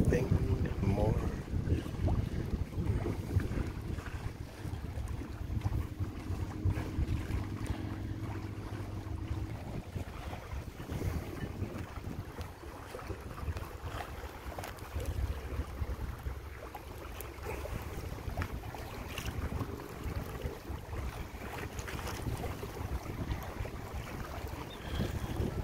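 Steady wind roars across the microphone aboard a Compac 19 sailboat, with the broadband rush of water and hull noise continuing throughout, loud and unbroken; a brief tonal hum passes midway.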